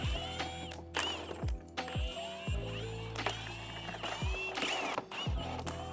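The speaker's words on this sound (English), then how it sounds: "I'm going to undo all these 10mm bolts that line the bottom of the bumper" A ratchet wrench clicks rapidly while undoing 10mm bolts along the bottom of a BMW G80 M3 bumper, with repeated bursts of ratcheting separated by short pauses and soft metallic knocks, heard up close.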